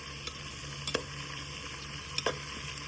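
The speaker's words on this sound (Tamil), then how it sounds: "இப்போ நம்ம கொஞ்சம் கிண்டி விட்டுக்கணும்" Salted onions fry in a pot for mutton biryani as a ladle stirs them, with a constant soft sizzle and a couple of brief scraping knocks, heard close and alone.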